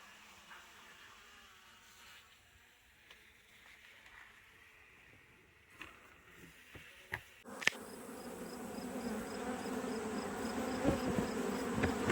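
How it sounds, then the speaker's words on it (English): Honey bees around comb buzz faintly at first, growing louder and denser toward the end, with a few sharp clicks and knocks along the way. "What a feeding feast for the bees."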